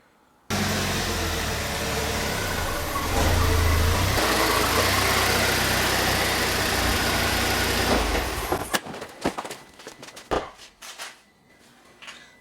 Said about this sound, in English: Let's get another car in here.